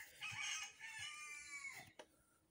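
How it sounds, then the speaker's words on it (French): A rooster crows in one long drawn-out call lasting about two seconds, moderately close, with a short sharp knock right after it fades and no talking over it. "ça c'est le coq"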